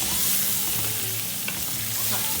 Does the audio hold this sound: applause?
no